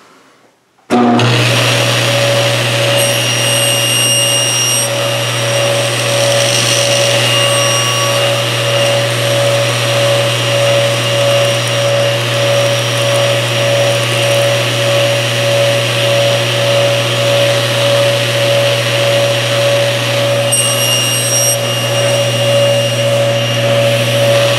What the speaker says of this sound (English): I'm going to make my first cut to get to 90. I might as well cut off the snipe at the same time.